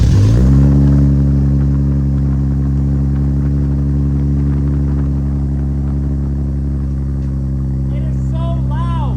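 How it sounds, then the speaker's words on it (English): A 2023 Nissan 400Z that is being rebuilt after a wreck cold-starts with a sharp crank and flare, then settles into a loud, steady, droning high idle close by, and a voice speaks briefly near the end. "So let's just do a quick cold start."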